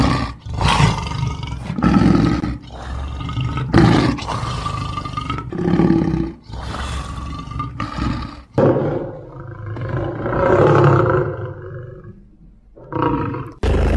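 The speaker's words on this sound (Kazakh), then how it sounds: "Бұл арыстан. Арыстан ақырады." A lion roars again and again in long, deep, rumbling bursts, loud and close, separated by short gaps, with a series of grunting calls trailing off near the end.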